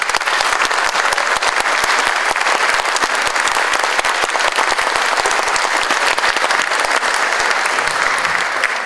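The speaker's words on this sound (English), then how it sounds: "Good round of applause" Dense, loud applause from the audience at a selectman candidate debate, continuous clapping from many hands that fills the whole stretch without pause.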